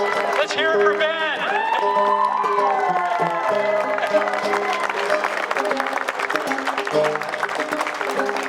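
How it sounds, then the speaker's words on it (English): Outdoor crowd at a Juneteenth 2021 celebration in Torrington applauding and cheering, steady clapping and shouts layered over music with a bass line, held loudly throughout. "Come out for some applause."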